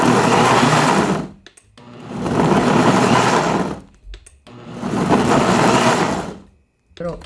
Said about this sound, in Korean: 홍고추를 가를 건데요. 물을 조금만 붓게요. 갈아오겠습니다.